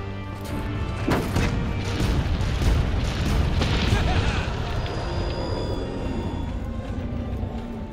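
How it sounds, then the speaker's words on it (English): Cannon fire in the Monster Hunter World video game, a heavy booming blast followed by rumbling crashes and explosions that keep going at a loud, dense level, with a voice speaking over the din. "Cause I just wanna fire this cannon here."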